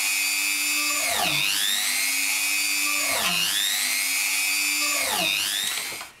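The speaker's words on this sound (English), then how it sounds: "I'm now going to drill straight through all these holes that have been marked on this Dremel workstation" A Dremel drill on a Dremel workstation bores holes through leather for a bushcraft knife sheath, a loud steady whine that dips in pitch three times as the bit pushes through, with no talking.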